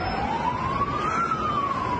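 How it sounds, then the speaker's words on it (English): Emergency vehicle siren, ambulance or fire engine racing to a train station, a single loud wailing tone rising and falling steadily across the whole stretch over background traffic noise, with no voices. "ambulances and fire engines raced to Novi Sad train station."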